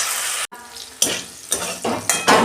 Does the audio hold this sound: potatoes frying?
yes